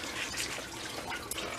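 Engine coolant draining from a GMC/Chevy truck with a 5.3 engine into a kiddie swimming pool, a steady soft trickle and splash of liquid running continuously, fairly quiet and close with no talking.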